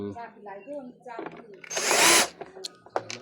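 A power screwdriver backs screws out of a vacuum cleaner housing in a short burst of whirring, preceded by clicks and handling noises, with someone talking in the background.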